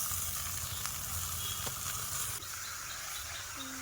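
Curry poured into hot oil with browned onions, giving a steady, close, crackling sizzle that continues throughout with faint stirring clinks.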